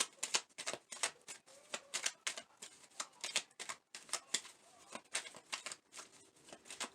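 Tarot message cards shuffled and pulled by hand, a quick series of crisp flicks and riffles repeating in bursts, close and fairly quiet with no talking.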